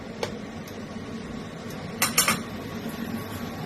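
A stuffed parwal curry, made with raw mango filling, is stirred in a pan with a few soft metal scrapes and clinks, a cluster of sharper knocks standing out against a quiet kitchen background.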